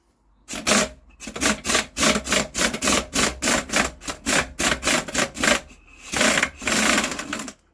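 Rhythmic metallic ratcheting and scraping from pulling the flywheel off a Villiers WX11 engine with a 1/2 inch Whitworth puller, a steady run of close, loud repeated strokes with brief pauses, no talking.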